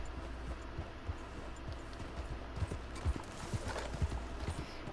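Horse hooves clip-clop steadily in Red Dead Redemption 2 while riding up a mountain, a quiet, even rhythmic plodding over a soft background ambience.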